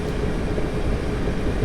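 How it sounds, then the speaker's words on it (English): Class 455 electric multiple unit running near London on the Hampton Court to Waterloo route in Train Simulator 2018, a steady, loud rumble of motor and wheels on track that holds constant throughout with no talk. "So we're driving the class 455, 855, maximum speed 75 miles an hour."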